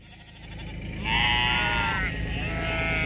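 Ewe lambs and cull ewes bleating in a large flock being rounded up on a farm, overlapping loud calls rising and holding close by over a low background rumble.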